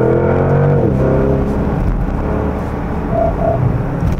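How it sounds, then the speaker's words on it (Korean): A third-generation Porsche Panamera GTS gives a refined engine and exhaust note from inside the car, a steady hum with a brief rising shift at the start, moderately loud and without talk. "배기음 좋긴 한데 많이 정제되어 있는 느낌은 좀 받네요."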